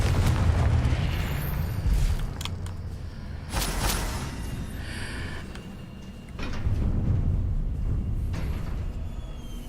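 Confringo explosive spell blasts in a Harry Potter video game land as several deep booming bursts with rumbling tails, loud and close over a steady game-audio bed, with no talk.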